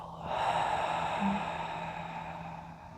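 A long, deep exhale through the nose and mouth during a gentle chair yoga breathing exercise, a close breathy rush that swells and slowly fades over a few seconds, with no talking.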